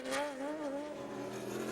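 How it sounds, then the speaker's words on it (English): A race car engine howls on track during an American Le Mans Series round at Sears Point, a sustained high-pitched tone with a slowly wavering pitch, steady and moderately near, with no talk. "Lovely, lovely sound from that beautiful engine."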